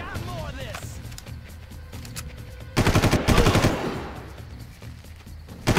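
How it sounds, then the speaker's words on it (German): Gunfire in the video game Far Cry, starting with quieter ambience and then breaking into a loud, rapid burst of automatic shots at close range, followed by another short shot at the end. "Vier Schuss!"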